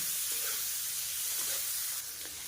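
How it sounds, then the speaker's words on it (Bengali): Green chillies, onion and garlic fry in hot oil in a pan, giving a continuous bright hiss of sizzling with faint stirring clinks. "এবারে কাঁচা লঙ্কা, পেঁয়াজ আর রসুনটাকে একটু ভাজা করে নেব।"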